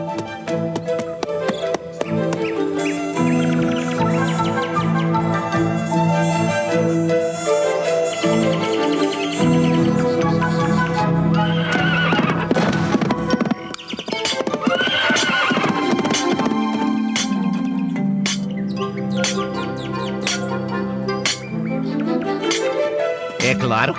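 Horses neigh and whinny while hooves clip-clop steadily, the sounds set within a full musical score in an animated scene; insects buzz faintly in the background.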